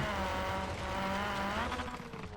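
An AWD Mini Cooper rally build in Forza Horizon 3 drives continuously at high revs, its engine tone rising and falling through a long slide with tire squeal mixed in.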